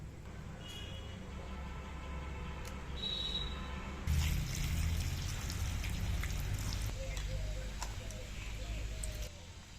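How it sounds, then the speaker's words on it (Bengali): Grapes picked from the bunch are washed in water, making soft, close drips and splashes that sharpen into a busier patch of splashing partway through, with faint voice-like sounds in the background. "আঙুরের থোকা থেকে আঙুরগুলো সুন্দরভাবে বেছে ধুয়ে পরিষ্কার করে নেবো"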